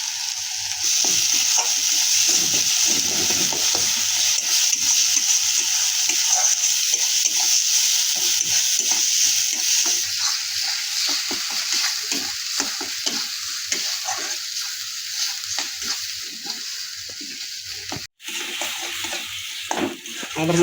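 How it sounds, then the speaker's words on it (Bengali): Spice masala of turmeric powder, chili powder and mixed spice frying in a pan for Bata fish curry, a steady close sizzle with stirring scrapes running throughout, loud and continuous, with a brief clatter near the end. "আমাদের মশলাটা হালকা ভাজা হয়ে গেছে"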